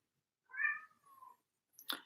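A cat gives a clear drawn-out meow followed by a short trailing call, then a brief sharp click, all faint and isolated against silence.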